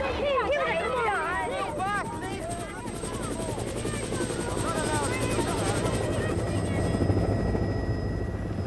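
A helicopter's steady rotor drone fills the air, loud and continuous, with crowd chatter and voices mixed underneath.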